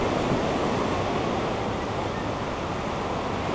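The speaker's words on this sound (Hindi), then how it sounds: "यहाँ पर बहुत ही लश हवा चल रही है" Wind blows steadily by the sea at Ao Nang beach in Krabi, Thailand, a loud, even rush of broadband noise with surf mixed in and no talk.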